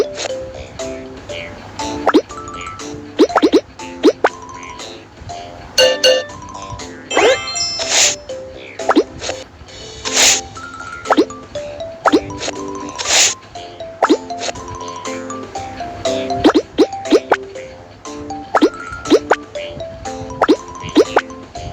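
Bricks set into a wall in the Little Panda building game, a string of cartoonish plops and bright chimes in an uneven rhythm, loud and close.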